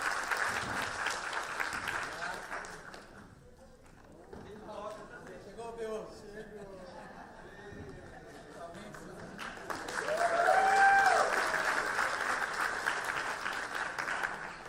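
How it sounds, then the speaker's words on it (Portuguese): An audience at an assembly session applauds in two stretches, a dense burst at the start and another near the end, with a person speaking in the quieter middle. "uma salva de palmas"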